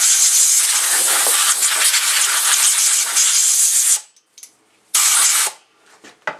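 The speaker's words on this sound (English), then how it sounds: "So right now I'm going to take the air compressor." An air compressor nozzle blows debris off a radio-controlled truck as a loud, steady hiss of air for several seconds, then stops and comes back in short bursts.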